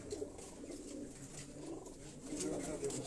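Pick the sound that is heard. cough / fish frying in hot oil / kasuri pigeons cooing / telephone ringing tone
kasuri pigeons cooing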